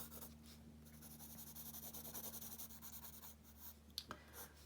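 A pencil shades across paper with soft, steady rubbing strokes that repeat in a quiet rhythm, close by and alone, with a couple of light taps near the end.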